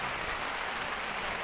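Cold rain falls steadily outside a home during a condolence gathering, making a dense, even hiss that stays constant and fairly loud throughout, with no voices.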